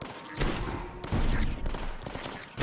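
Mortar fire in the video game 3 Battlefronts, several heavy booming blasts in quick succession over a dense battle din, loud and close.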